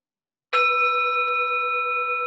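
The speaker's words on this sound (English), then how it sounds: "Take a moment to settle into the sound of the chime," A meditation chime or singing bowl is struck once, then rings on with a bright, steady, sustained metallic tone that barely fades over the following two seconds, heard alone and close.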